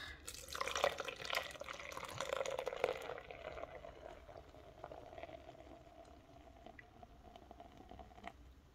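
Beer poured from a bottle into a pork chop marinade with mustard and a pinch of bell pepper: a steady, close splashing pour for about three seconds, then a softer, lingering fizz and trickle.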